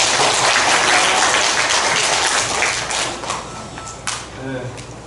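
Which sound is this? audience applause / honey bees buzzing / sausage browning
audience applause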